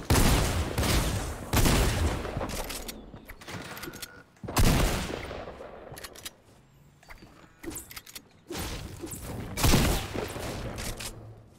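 Rapid gunfire in the Fortnite video game crackles in several loud bursts, with brief gaps of quieter game sound between the volleys.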